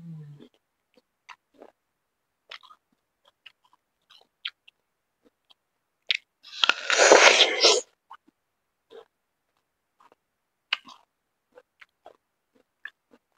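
A crisp apple is chewed near the microphone, with scattered crunchy bites and clicks across a quiet background and one longer, louder burst in the middle.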